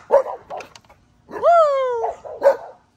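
An XL Pitbull barks in short, loud yips up close, then lets out a long rising whine before barking again.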